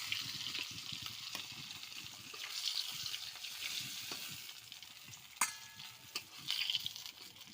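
Fried rohu fish lifted from hot oil, a faint steady sizzle of frying with a few light scrapes and clicks of a utensil close by.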